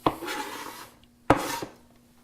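A knife cuts through a small serrano pepper on a board, giving two quick, faint close chops, each a sharp tap with a short scrape, about a second apart.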